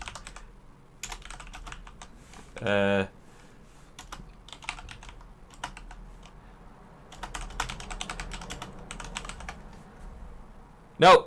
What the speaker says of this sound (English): I just typed it